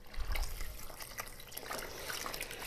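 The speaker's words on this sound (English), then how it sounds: "So I'm gonna be adding water." Water is poured into a container for soaking ranunculus and anemone corms, making a faint, continuous splashing trickle close by with no talk.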